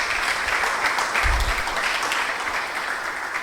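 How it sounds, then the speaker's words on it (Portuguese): Church congregation applauding during a service, steady broadband clapping that fills the whole moment at a strong, even level, with a brief low thump partway through. "Vamos aplaudir o Celinho ali na..."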